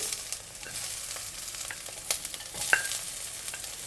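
Onion wedges and the white stems of spring onion tumble into a hot pan for a Chinese mushroom, onion and chicken tofu stew, giving a steady close sizzle with scraping stirring clatter and a brief louder clank near the end.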